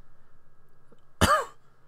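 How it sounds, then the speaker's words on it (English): A single short, dry cough rings out close by, a sharp rasping burst after a quiet moment. "dry cough is so fucking irritating."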